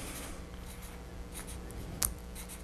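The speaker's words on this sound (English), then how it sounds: "And I would write that number down." Pen or pencil jotting down a number, quiet brief scratchy strokes in a still room, with one sharper tap near the end.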